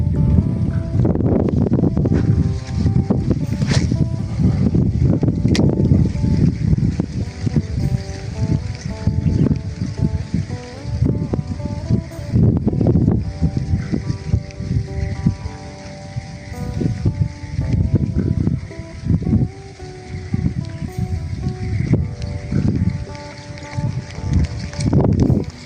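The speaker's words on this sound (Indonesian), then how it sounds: "Ini angin sudah mulai kencang" Strong wind sweeps across an outdoor fishing spot ahead of heavy rain, buffeting the microphone with loud, rumbling gusts that surge and ease continuously, with no talk.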